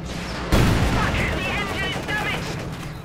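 A Panzerfaust and gunfire in the Company of Heroes 2 real-time strategy game, a sharp loud blast at the start followed by a dense crackle of shots and battle noise.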